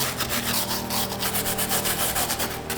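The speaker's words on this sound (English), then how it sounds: "when you're using a wire bristle brush and you have a knit up top" Wire bristle brush scrubbing the knit upper of a mesh/knit sneaker, a steady close rasping rub with quick back-and-forth strokes throughout, no talking.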